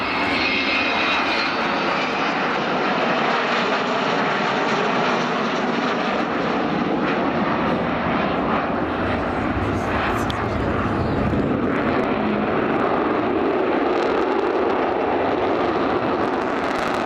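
The 1960 Avro Vulcan XH558 delta-wing jet bomber flies at an RAF Cosford airshow, a loud sustained jet engine roar that swells and rolls steadily over the whole stretch, with faint crowd sounds beneath.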